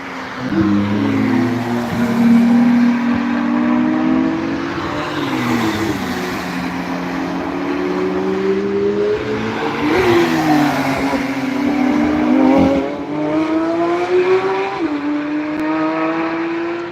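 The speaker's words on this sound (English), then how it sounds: "There's a lot of Mountain Porsches here." Porsche cars drive on the Nürburgring, engines rising and falling through repeated shifts as they accelerate and pass at moderate distance, a continuous loud mechanical roar.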